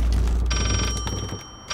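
Telephone ringing inside the horror video game Layers of Fear, a steady electronic bell tone starting partway in and sustaining over a murky low rumble of game ambience, fairly loud and without talk.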